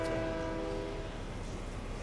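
A train horn in Fortnite Chapter 5 Season 2 gameplay gives a short tonal blast that fades after about a second into a low rolling rumble of the moving train.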